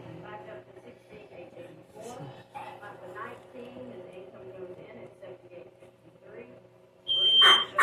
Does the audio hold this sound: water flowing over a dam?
no